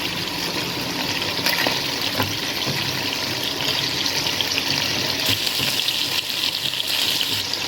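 Onions and green chilies frying in a pan for pasta with kat a kat chicken, a steady close sizzle that runs the whole time with light crackle and faint scraping, no talk.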